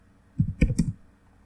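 Computer keyboard typing on a Windows PC, three quick close key clicks in a short burst, alone in a quiet room.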